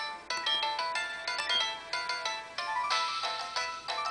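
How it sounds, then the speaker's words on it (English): A phone ringtone plays a bright, melodic electronic tune in quick repeating phrases, loud and close, with no talking over it. "It was just my phone going off."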